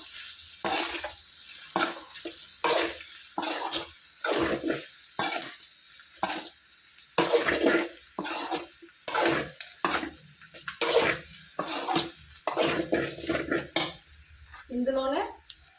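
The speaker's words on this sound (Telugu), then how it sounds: "దీన్ని చక్కగా ఒక ఫైవ్ మినిట్స్ అల్లం వెల్లుల్లి పేస్ట్ పచ్చివాసన పోయేంత వరకు ఫ్రై చేసుకుందాం" Ginger garlic paste fries in a pan while being stirred, loud bursts of sizzling and scraping in repeated strokes separated by short quieter gaps, close up and without talk.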